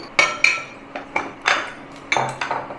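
Sharp clinks of a utensil against a plate while Sherwani sauce and spicy tomato ketchup are stirred together, about eight close, irregular scraping taps.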